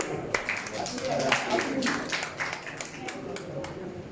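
An audience at a gurukul inauguration claps to welcome an arriving legislator, with scattered, uneven hand claps and talk from several voices mixed in.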